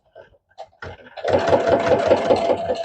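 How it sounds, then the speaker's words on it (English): A sewing machine runs steadily while stitching appliqué fabric for a Halloween pillow, a close, even mechanical whir with a regular needle rhythm starting after a few soft handling sounds. "You're just turning the fabric under the needle."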